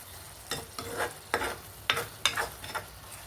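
Prawns frying in oil for Andhra-style gongura prawns give a soft, low sizzle, punctuated by several distinct scraping stirs at irregular intervals.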